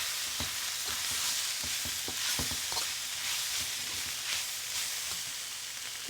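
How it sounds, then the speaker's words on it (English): Chicken and egg fried rice sizzles in a pan on an induction cooktop, a steady loud hiss broken by scraping and tapping stirs near the start. "Just stir fry that a little bit just to meld some of the flavors."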